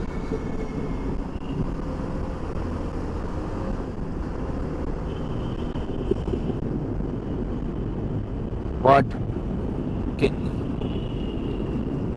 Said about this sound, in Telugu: పైన నుండి ట్రైన్ వెళ్తుంది,